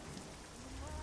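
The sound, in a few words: rain in the video game American Truck Simulator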